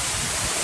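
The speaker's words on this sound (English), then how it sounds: "Look at that beautiful waterfall." A waterfall in the Mindo cloud forest of Ecuador roars as a steady, dense wash of rushing water, loud and unbroken with no voices.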